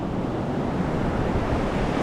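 Ocean waves crash against the shore in a continuous rushing roar, loud and close, with wind buffeting the microphone.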